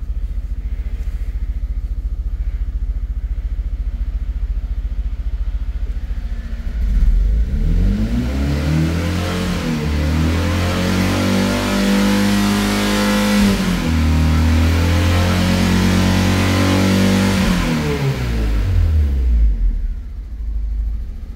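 Fiat Punto 1.2 petrol engine with a faulty ignition coil idles roughly, then is revved twice in long rising and falling sweeps, loud and close, with an uneven stumbling misfire between.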